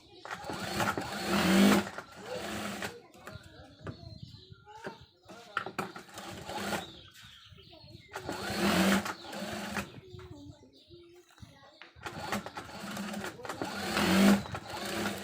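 A sewing machine stitches the bodice of a Naira-style dress in three loud running bursts with a steady whirring hum, separated by quieter pauses where a voice speaks.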